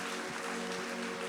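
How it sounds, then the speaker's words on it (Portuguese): Applause from a church congregation during a worship service, a steady broadband clatter of clapping filling the whole short moment at moderate volume with no voices on top. "Você pode aplaudir a Jesus por isso?"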